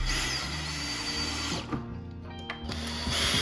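An electric drill drives hinge screws into the wood of a cabinet door, a steady close motor whine that dips briefly in the middle and then picks up again.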